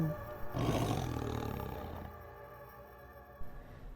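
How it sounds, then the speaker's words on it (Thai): A deep, loud roar used as a horror-story sound effect, swelling suddenly after half a second and rumbling on for several seconds before fading, with a short extra burst near the end; no one speaks. "จู่ๆ ก็มีเสียงคำรามดังขึ้น"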